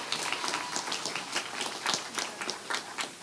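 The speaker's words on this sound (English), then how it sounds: "Give her another round of applause." Scattered, uneven clapping from a graduation ceremony audience at a preparatory school, moderately quiet and thin, with individual hand claps standing out through a short round of applause.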